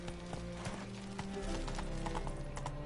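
Hooves of a horse in The Witcher 3 clop in a steady trotting rhythm, quiet and close, with a soft snort and faint ambient background.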